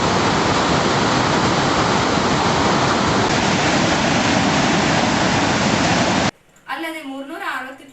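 Water thunders through 26 open reservoir dam gates, a loud, dense, unbroken roar that cuts off abruptly near the end, after which a person speaks.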